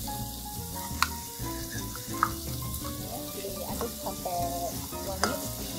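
Crushed lemongrass sautéing in a pan during a macaroni cooking lesson, a soft, steady sizzle with occasional stirring clinks, under a person speaking.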